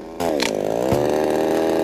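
A motor chainsaw revs loudly and steadily while cutting through a dried-out tree at a holiday resort, its engine whine sustained and close, with a brief shift in pitch as the blade bites into the wood.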